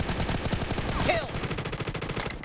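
Sustained automatic gunfire in a BGMI (PUBG Mobile) domination match, a dense rapid rattle of shots running continuously and close.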